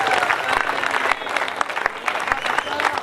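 A crowd at a cricket final applauds loudly and steadily, dense clapping close by, with a short dip partway before it swells again and voices mixed in.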